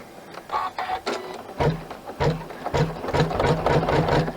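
An embroidery machine stitches a recycled denim zippered pouch in the hoop, giving a rapid mechanical chatter with brief pauses as it stops and restarts to change the presser foot height, then running steadily and fairly loud.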